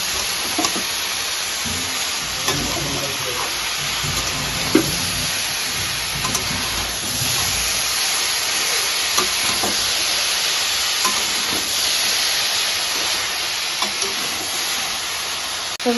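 Vegetables fry in a pan under a loud, steady sizzle, while occasional clinks and scrapes of stirring rise above it throughout, with no speech.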